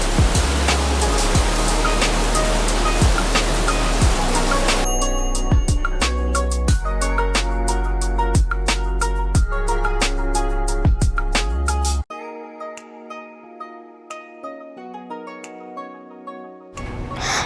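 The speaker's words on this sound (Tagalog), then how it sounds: "Umuulan nga po pala habang iniintay po namin maluto ang pizza." Heavy rain pours outside during a wait for a baking frozen pizza, a dense, steady hiss that runs loud through the first part, under tonal music and thinning later.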